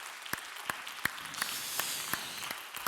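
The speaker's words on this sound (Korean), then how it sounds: "우리 감사의 박수 한번 할까요?" A church congregation gives a short round of applause, a soft, fairly distant wash of many hands with a few sharper, evenly spaced claps standing out.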